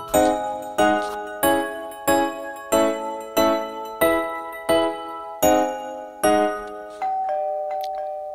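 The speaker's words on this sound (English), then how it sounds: "That's the doorbell again." A video game doorbell chime rings again and again, about ten evenly spaced bright tones with ringing decay, then a final sustained tone fading out.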